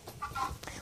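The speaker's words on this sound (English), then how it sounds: "that's a rooster" A rooster in a barn gives a short low cluck, brief and soft at close range, with no talking.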